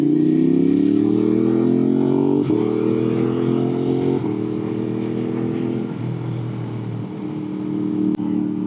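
A motorcycle ridden on twisty roads, its engine droning loud and close with rising and falling revs and gear changes as it works through the bends, accompanied by steady wind rush and no talking.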